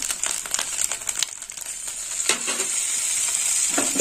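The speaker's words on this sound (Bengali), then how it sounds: "এবার সর্ষে বাটাটা এই যে ভালো করে নেড়ে চেড়ে নিই" Mustard paste sizzling and frying in a pan while being stirred, for a sour shol fish curry with tempering already fried; steady bright crackle throughout with scraping stir strokes, no talk.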